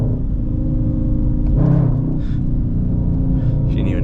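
A 2019 Dodge Charger R/T with its exhaust valves open rumbles deep and steady from inside the car while driving, swelling briefly into a stronger rev midway, with faint voice-like sounds at times.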